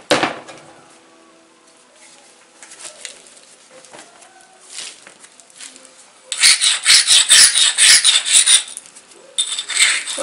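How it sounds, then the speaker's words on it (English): Obsidian slab blade edges being ground in flintknapping, a harsh rhythmic rasping of stone on stone that starts quiet and becomes loud and dense in the second half, with brief pauses between bursts. "So I grind all the edges."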